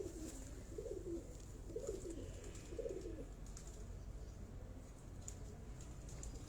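Breeder pigeons in a loft give three soft, throaty coos about a second apart, close by and moderately loud over a steady background hiss.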